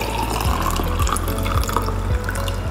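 Hot water poured into a glass for a Kannada herbal giloy juice preparation, a steady liquid gurgle and trickle with a few soft splashes, close and alone.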